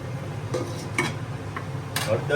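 Green turmeric frying in ghee in a pan, a steady low sizzle broken by a few spoon scrapes and stirring clinks, with a voice briefly heard nearby.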